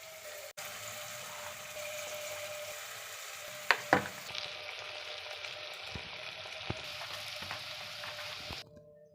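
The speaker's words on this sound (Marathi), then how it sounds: "तेल गरम झाले, त्याच्यात आपण वडे टाकून घेऊया" Vada lentil fritters dropped into hot oil fry with a steady hiss, broken by a couple of sharp clinks and a brighter surge of bubbling as more batter goes in, fairly quiet, with no one speaking.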